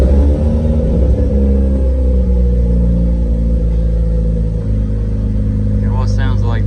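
A Mazda RX7 FD3s rotary engine, freshly started after an oil change, runs with a steady low rumbling idle that stays loud and even throughout, with a brief hiss near the end.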